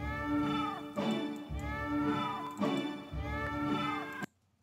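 A cat meows repeatedly, four drawn-out, wavering cries in close succession, loud and near, ending abruptly.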